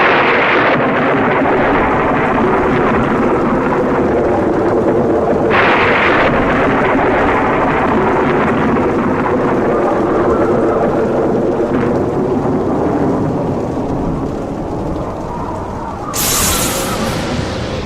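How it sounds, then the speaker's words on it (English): A storm rages steadily, with dense rumbling thunder and rushing wind that stay loud and continuous throughout. "Louder and louder did the winds howl, and the thunder and lightning crackle."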